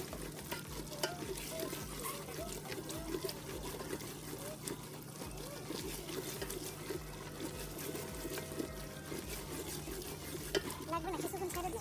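Beef biryani masala being sautéed in a pot: steady stirring with scraping and a soft, continuous sizzle of frying spices and meat under a low kitchen hum.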